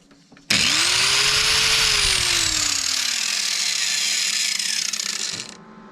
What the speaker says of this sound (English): I have a small grinder plugged in to the 1500. So I'm going to turn that on